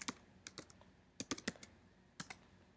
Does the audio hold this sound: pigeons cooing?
no